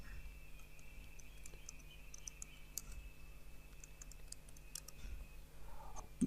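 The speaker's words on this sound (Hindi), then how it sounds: "तो मैं पासवर्ड को टाइप कर देता हूँ" Someone types a password on a computer keyboard, a quiet, steady patter of light key clicks running throughout over a low hum, with no voices.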